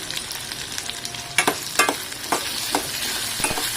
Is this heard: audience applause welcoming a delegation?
no